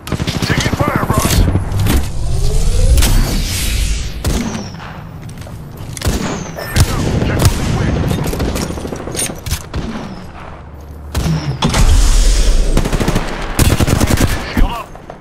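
Loud, dense bursts of automatic gunfire and explosions fill a shooter video game firefight. The shots come in rapid runs with brief gaps, and game voice lines are mixed in.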